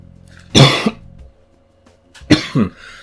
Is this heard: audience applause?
no